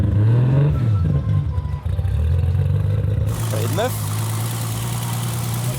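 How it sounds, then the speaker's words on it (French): A broken-down Volkswagen Golf engine fires up and settles into a steady, close idle hum with a low droning tone, while people talk nearby. "ça démarre bien quand même pour une voiture en panne"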